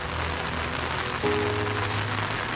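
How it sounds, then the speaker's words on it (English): Steady rain falls in an old cemetery among weathered stones, an even outdoor hiss of drops that continues unbroken and nearby throughout. "And the rain's coming down."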